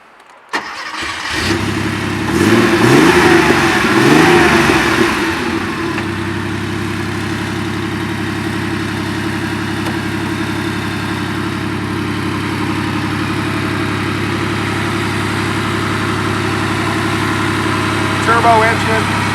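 A stock Porsche 930 Turbo slant-nose engine cranks and fires, revs briefly, then settles into a steady, throaty idle.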